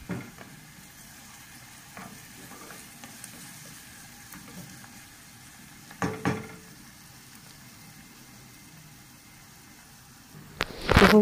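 Small onion with garlic frying in a pan for fatteh sauce, a faint steady sizzle with occasional stirring clatters and a louder scrape near the end.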